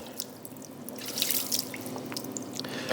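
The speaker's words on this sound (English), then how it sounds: "water just rolls right off of it" Water poured over a car wheel treated with graphene ceramic spray splashes and drips off in close, scattered patters and trickles, with no talking.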